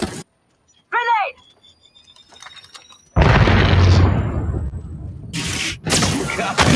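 A grenade detonates in the Apex Legends video game, one sudden loud blast with a rumbling decay, among clipped in-game callouts and a couple of sharp bursts afterward.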